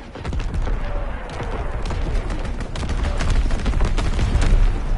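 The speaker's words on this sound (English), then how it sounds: "Firing primary gun. Target position confirmed. Ring out maneuver. Strafing run inbound." Dense gunfire and booming strafing-run explosions in a PS4 game, a continuous loud barrage of overlapping shots and blasts lasting throughout, with a voice speaking under the din.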